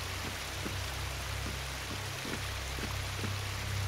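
Steady rain falls in the video game Lovecraft's Untold Stories as a constant hiss, with faint, low, regularly spaced thuds running beneath it and no voices.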